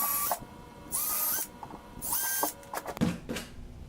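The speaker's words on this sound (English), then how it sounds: "I'll always start off with a smaller drill bit to drill some pilot holes here." A power drill bores pilot holes for saddlebag brackets on a 2016 Indian Scout Sixty motorcycle, with repeated short whining bursts of the motor rising and stopping, then clatter and handling noises, close up.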